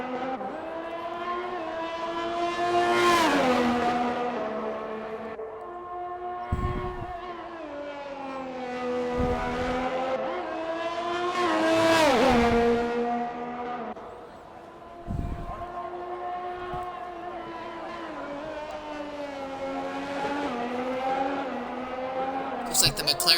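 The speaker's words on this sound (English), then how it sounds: "Didn't take Starfish long to get onto the circuit." Race cars lapping the Melbourne circuit at the Australian Grand Prix, engines whining and sweeping up and down in pitch as they pass, with an announcer talking over the continuous roar.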